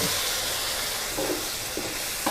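Zucchini and carrot stir-fry in a pan over medium heat with a little water added, producing a brief, dense, close hissing sizzle with a few faint stirring knocks.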